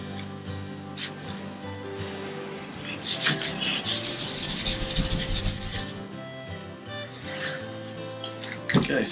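A maroon Scotch-Brite pad scrubs surface rust off a Toyota Prado 120 front hub, with uneven bursts of rough rasping and rubbing close by, and faint speech in places.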